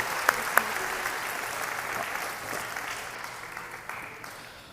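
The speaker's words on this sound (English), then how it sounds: "One more round of applause," An audience at a secondary school convocation ceremony applauding, sustained clapping that slowly fades away, with a couple of sharp louder claps near the start.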